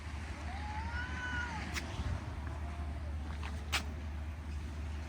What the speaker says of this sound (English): Cats fighting, obviously.